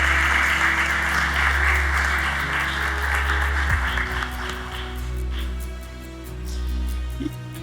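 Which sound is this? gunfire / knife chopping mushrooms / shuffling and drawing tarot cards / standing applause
standing applause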